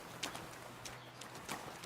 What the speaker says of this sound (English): Sounds like I'm walking in horse muck.